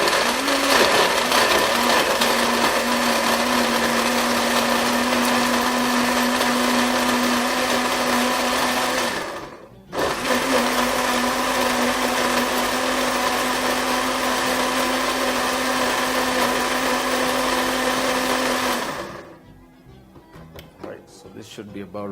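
A blender pulses a berry smoothie at high speed, with a loud, steady, close whirring roar that cuts out briefly near the middle, resumes for another long burst, then stops.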